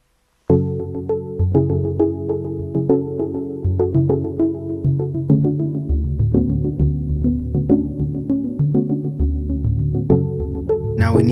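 A programmed keyboard loop of four chords cycles steadily without change, with sustained, full synth tones shifting at regular intervals, loud and alone.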